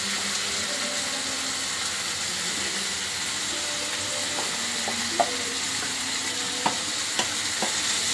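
Tomatoes frying in a pan for egg bhurji give a loud, close, continuous sizzle, broken by a few sharp scrapes and clinks of a utensil in the later part, with no voices.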